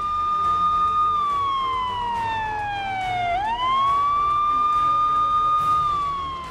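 A vehicle hooter siren wails in a clear, loud tone, sliding slowly down in pitch, then snapping back up and holding steady, with faint traffic noise underneath.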